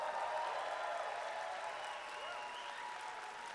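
Crowd applause fills the space for a climber stepping up at a bouldering competition, a steady wash of clapping and cheering at moderate level that holds throughout, with no voices standing out.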